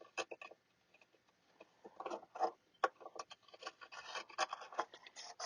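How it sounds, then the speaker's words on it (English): A countersink bit is twisted by hand into a hole in guitar body wood, making a quiet, close, irregular scraping and rasping in short bursts, with no voice. "countersinks that I'm now going to use to just add a little countersink to the hole to smooth it up"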